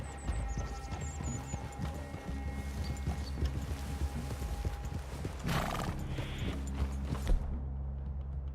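Horses in the Red Dead Redemption 2 video game: steady clip-clop of hooves with snorting and a whinny, plus faint mechanical rattles, continuous and mid-distance without talk.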